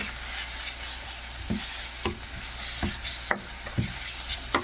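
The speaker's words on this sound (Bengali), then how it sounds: "এখন একটু নেড়ে চেড়ে এভাবে এটাকে ভেজে নেব, যাতে করে নিচে না লেগে যায়।" Cauliflower, cooked in place of onion in a cabbage and cauliflower curry, fries in a pan with a steady sizzle while a utensil stirs it in a few soft, scattered scrapes; no voices.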